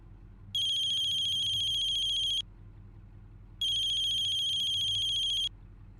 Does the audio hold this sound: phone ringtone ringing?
yes